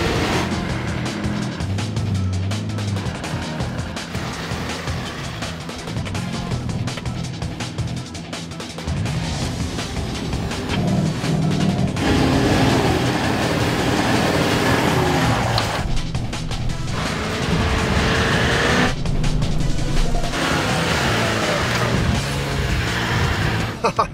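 A Toyota LandCruiser 79 Series 4WD climbs a sand dune in the Simpson Desert, its engine droning loud and steady throughout the climb, rising in strength toward the end with no talk over it.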